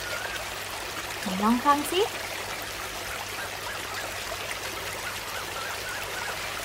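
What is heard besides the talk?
flowing water stream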